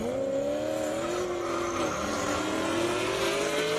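A Mustang and a Corvette drag racing at an Indianapolis airstrip drag event, engines revving hard with rising tones as they launch, a loud continuous roar that climbs and shifts in pitch, no talk.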